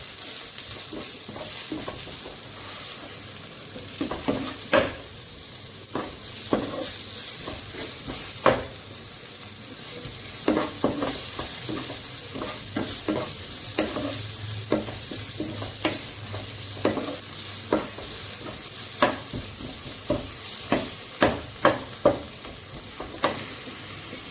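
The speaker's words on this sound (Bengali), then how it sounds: "টমেটো আর পেঁয়াজটা ভাজি হয়ে গেছে" Tomato and onion fry in a pan for street-style egg bhurji, a constant bright sizzle broken by frequent scraping and tapping of a spatula against the metal.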